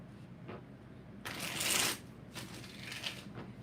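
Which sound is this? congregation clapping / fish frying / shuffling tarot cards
shuffling tarot cards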